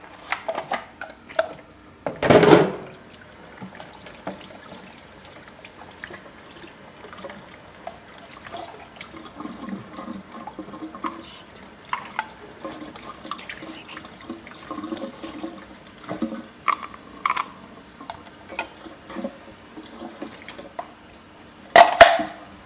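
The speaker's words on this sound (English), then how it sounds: "I'm going to give this a quick rinse, because if I'm going to make potato chips, I don't want fruit in them" Running tap water rinses a Magimix Cook Expert food processor bowl, giving faint intermittent trickling and splashing with a few louder bursts near the start and end.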